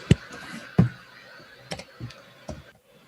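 A handful of separate keystrokes tap on a computer keyboard while a PAN number is entered, with irregular clicks spread over a few seconds at close range.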